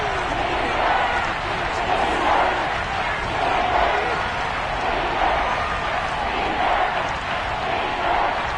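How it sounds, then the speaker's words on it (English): A football stadium crowd roars steadily before a big third down in a Cowboys-versus-Chiefs game, a dense continuous wash of cheering with small swells and no clear breaks. "the crowd getting into it as we come up on a big 3rd down"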